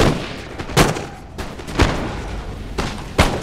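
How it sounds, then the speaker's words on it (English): Grenade blasts in Empire: Total War's 18th-century battle, four sharp booming bursts spaced about a second apart, each loud and broadband, separated by a low rumbling battlefield din. "Grenades!"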